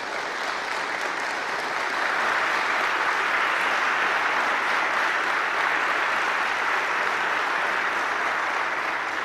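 Sustained applause from a crowd at a political speech, steady and loud, swelling slightly after the first couple of seconds and continuing without a break.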